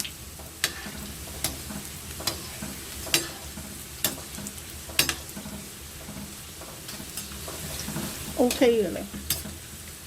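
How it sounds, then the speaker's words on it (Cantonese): Food deep-frying in oil heated to about 180–200 degrees to render out its fat, a steady crackling sizzle with sharp pops and clinks from stirring, plus a brief spoken word. "我哋俾翻落去炸一炸，逼翻啲油出嚟"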